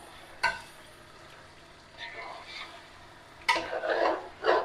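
Chicken frying in a pan for korma, with a soft sizzle underneath and a few sharp spoon-against-pan scrapes and stirring bursts spaced a second or two apart.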